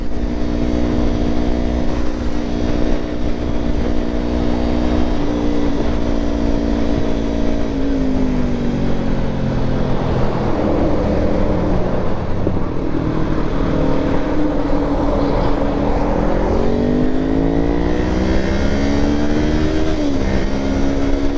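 A Kawasaki Ninja 500 motorcycle engine drones loudly and close, rising and falling in pitch as it revs up and shifts through traffic, with continuous wind rush.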